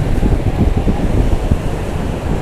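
Strong wind buffets the microphone while big waves crash and churn on the sea at Goa, India, a constant low roar with gusty surges.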